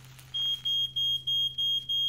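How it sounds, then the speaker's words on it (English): Smoke detector alarm sounding a run of six shrill, evenly spaced beeps, clear and alone with no talk. "How many times have you set the smoke detector off by doing that?"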